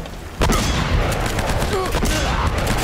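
Shotgun fire in the Uncharted video game, a sudden loud blast followed by several more heavy booming shots in quick irregular succession over busy combat noise.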